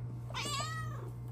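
A pet cat at a window gives a single clear meow, close and moderately loud, over a low steady background hum.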